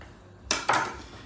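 A knife cuts through a kilogram piece of pork on a board, giving two quick sharp clacks of blade against the surface close by, with no talk.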